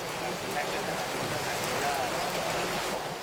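Steady rain falls and patters on a surface near a grounded DC-3 airplane in Colombia, a continuous wash of noise that stays even throughout.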